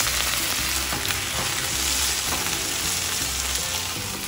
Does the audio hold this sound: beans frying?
yes